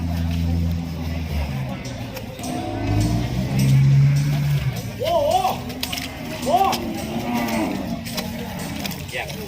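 Cattle lowing at an open-air cattle and buffalo market in Yasothon, Thailand, several deep moos rising over a busy murmur of people talking and nearby engine rumble.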